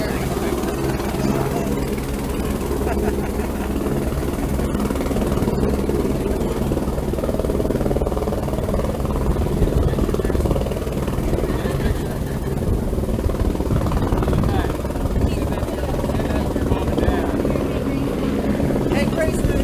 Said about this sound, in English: Watch the helicopter!